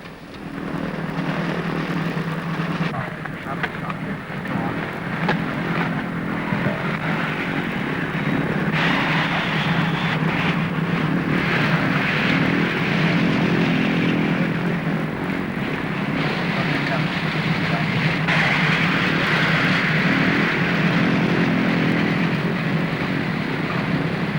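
A loud propeller plane drones steadily overhead, its engine roar swelling and easing slightly as it passes, with no break in the noise.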